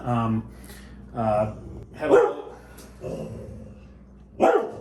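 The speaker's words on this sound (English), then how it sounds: "what are you barking at?" Several bursts of a dog's sharp barks or yelps, fairly close, spaced about a second apart with quieter gaps between them.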